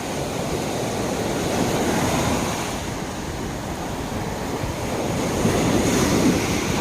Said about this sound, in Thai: คลื่นแรงอันนี้ตรงนี้น่าจะเล่นน้ำไม่ได้คลื่นแรงนะคะ คลื่นแรงมากเลย